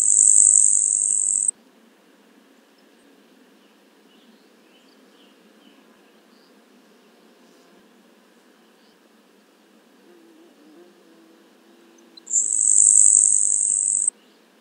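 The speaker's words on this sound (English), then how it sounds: "a grasshopper sparrow from 350 feet away" A grasshopper sparrow's high, thin insect-like buzz, recorded from 350 feet away with a parabolic microphone, sounds twice, once at the start and again near the end, each over a second, over a quiet, low background hum.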